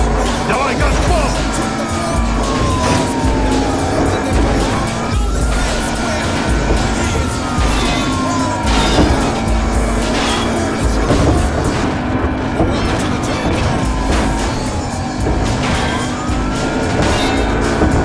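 A car engine roars under hard acceleration in Battlefield Hardline, with a siren wailing and rising across the scene, a steady loud gameplay mix with talk over it.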